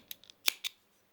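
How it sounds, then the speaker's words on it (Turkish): Scissors snip through a single strand of crochet yarn, giving a few sharp close clicks with one louder cut near the middle, set against quiet. "Şöyle tek telinden geçiriyorum makasımı. Böyle tek katını kesiyorum."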